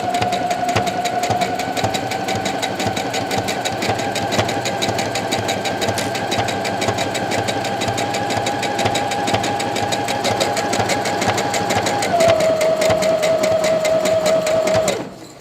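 Sewing machine running a long steady stitch along a pinned skirt seam guided by a guide bar, a close, continuous fast rhythmic whir and clatter that shifts speed slightly before stopping.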